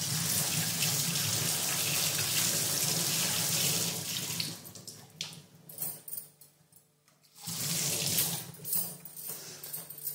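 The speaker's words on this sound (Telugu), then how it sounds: "వాష్ చేసి వేస్తున్నాను" Tap water runs steadily into a kitchen sink as ginger and other tea ingredients are rinsed, a loud close rush that breaks off and sputters briefly before flowing again.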